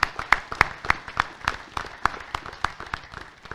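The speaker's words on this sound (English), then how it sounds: "We just need to give Frank a round of applause by himself" Sparse, rhythmic hand claps ring out at a steady pace, faint and somewhat distant, like a small group clapping together at a hall of fame ceremony.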